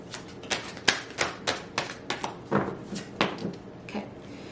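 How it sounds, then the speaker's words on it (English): A large tarot deck is shuffled close up in a series of crisp, rhythmic card riffles and taps, each burst sharp and separate, with no talking. "This deck is so big, it's hard to shuffle sometimes."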